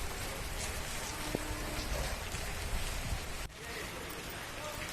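Heavy rain with lightning pours as a steady, dense hiss in Upleta, near Rajkot, India, heard at a distance and fairly quiet, dropping slightly in level near the end.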